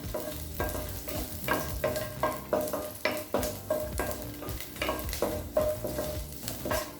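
Lentils and garlic dry-roast in a pan for paruppu podi, with a spoon scraping in a steady rhythm over a soft, continuous sizzle. No voices.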